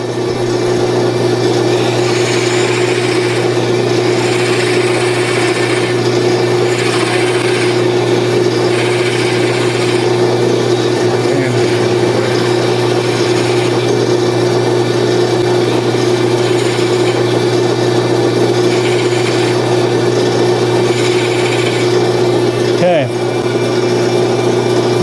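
A wood lathe turns a wooden chess pawn while a parting tool cuts into it. A steady, loud motor hum runs throughout under a continuous rough scraping hiss, with a brief shift in tone near the end.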